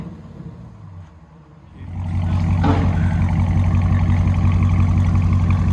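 A Hemi V8 fitted with an aftermarket muffler rumbles at idle, then its engine revs up near the microphone into a loud, sustained, throbbing roar.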